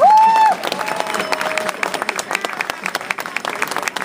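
An outdoor crowd at a public gathering in a town square claps for the organizers in the rain, a dense, steady patter of many hands that follows a brief tone at the start, with no voices over it.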